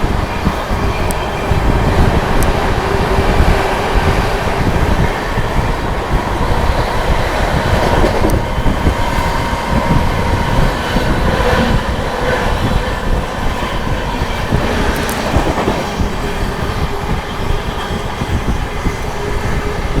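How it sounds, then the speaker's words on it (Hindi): The Sealdah New Delhi Rajdhani Express rushes at speed through Etawah Junction, a loud continuous roar of wheels and rattling carriages with occasional clicks from the track and no voices. "क्या गजब की रफ्तार में स्किप किया है भाई शानदार राजधानी ने इटावा जंक्शन रेलवे स्टेशन को।"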